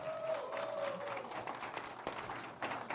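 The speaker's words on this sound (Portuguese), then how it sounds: "uma salva de palmas para os nossos astros" A crowd applauds the participants of a stage hypnosis show, with soft, continuous clapping heard from a distance at low volume.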